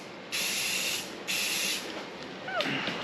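Primer is sprayed from an aerosol can onto an engine timing cover in two steady hissing bursts, then shorter spurts, close and loud with no talk.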